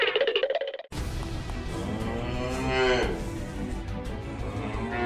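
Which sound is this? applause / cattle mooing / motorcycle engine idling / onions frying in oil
cattle mooing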